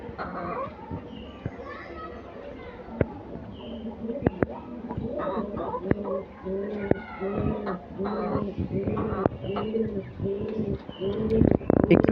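Pigeons in a cage on a city balcony coo in repeated soft, throaty rolls, close by and fairly quiet, while a person talks and scattered clicks and light knocks sound from around the cage.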